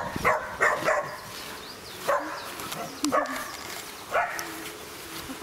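A dog barks in short bursts with a few yips and whimpers mixed in, fairly close and loud, the barks spaced a second or two apart.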